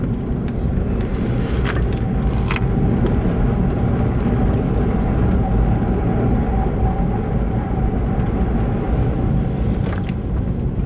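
A 2006 Pontiac Vibe rounds a tight cul-de-sac corner, its steady engine and road noise filling the cabin at an even, fairly loud level throughout, with a few faint clicks and no talking.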